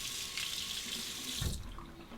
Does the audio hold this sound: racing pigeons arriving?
no